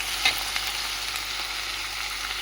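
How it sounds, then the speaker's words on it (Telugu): Nalleru (veld grape) stalks sizzle and fry in hot oil with a steady crackle and a few small pops, close up with no talking. "నల్లేరు కాడ బాగా నూనెలో మగ్గించుకోవాలండి"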